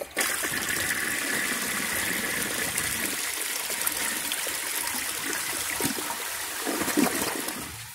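A 2002 Eljer Patriot toilet flushes during a carpet pad test, a continuous rushing, gurgling water sound at moderate level that lasts throughout, with small splashes and trickles near the end.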